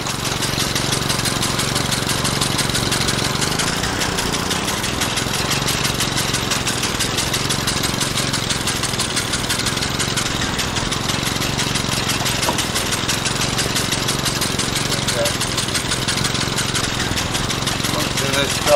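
A farm mower engine runs steadily and loudly throughout at close range, a constant rattling drone with a faint voice under it.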